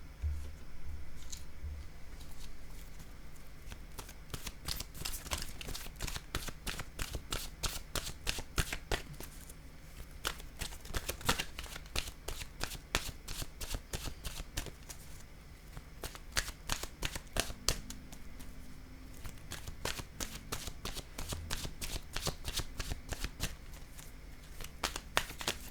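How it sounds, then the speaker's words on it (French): A deck of oracle cards being shuffled by hand: a steady run of crisp, close riffling snaps and soft card slaps repeating for the whole stretch, with no talking. "Je vais piger maintenant une carte de mon oracle"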